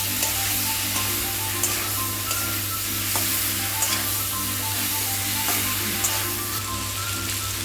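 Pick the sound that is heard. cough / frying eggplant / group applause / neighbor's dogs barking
frying eggplant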